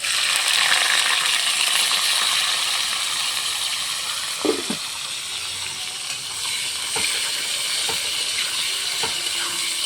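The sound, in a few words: chopped onions added to hot oil, sizzling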